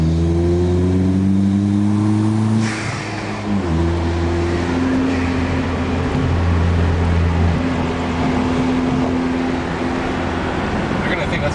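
Onboard exhaust note of a GC MR car revving, a loud steady engine drone with strong low harmonics that dips briefly and climbs again, continuous and close throughout.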